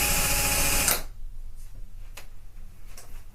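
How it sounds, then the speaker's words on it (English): A power drill whirs loudly through wood for about a second, then cuts off, leaving a quiet room with a few faint clicks. "So we're going to drill this through."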